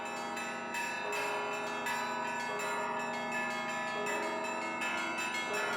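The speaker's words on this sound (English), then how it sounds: "The sounds of the new bells of the Cathedral of Christ the Saviour are heard throughout the centre of Moscow." The new bells of the Cathedral of Christ the Saviour in central Moscow ring together in a dense, overlapping peal, with clanging strikes and sustained ringing tones throughout.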